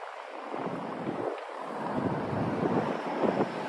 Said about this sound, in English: Man, it is so windy out. Can you guys hear the wind in the mic?